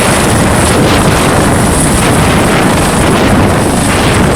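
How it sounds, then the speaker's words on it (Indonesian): A steady, loud whirring drone like a helicopter rotor from a red-and-white toy fire department helicopter, continuous and close with no break and no voices. "Yang ini helikopter damkar ya."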